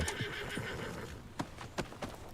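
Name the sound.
horse neighing in video game Red Dead Redemption II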